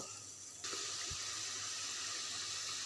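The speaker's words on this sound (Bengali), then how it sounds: "আর একটু পানি দিয়ে দিব।" Water pours into a cooking pan of curry with taro stolons and dried hilsa fish, a close, steady splashing gush that begins abruptly and keeps running.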